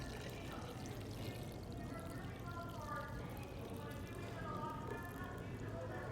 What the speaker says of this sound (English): I'm gonna pour it in just to make sure we don't clog it up, and hold the strainer so it just doesn't tip